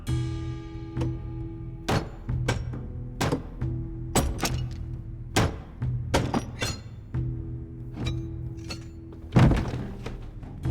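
A heavy coffin lid opened at a grave site in a Tang dynasty drama scene, heard as a series of loud wooden thunks and knocks, with one sharper crack near the end, over a steady low background hum.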